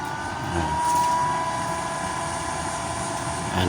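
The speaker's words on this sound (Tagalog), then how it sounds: "papatayin ko itong blower" Blower feeding air into a used-oil burning stove, a continuous loud, steady whooshing roar with a faint tonal whine, running unbroken throughout.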